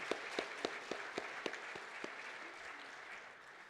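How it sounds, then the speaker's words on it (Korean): Church congregation applauding during a Christmas thanksgiving service, rhythmic clapping with distinct evenly spaced beats standing out at first, then settling into softer, quieter clapping. "다시 한번 하나님께 영광의 박수 올려드리겠습니다"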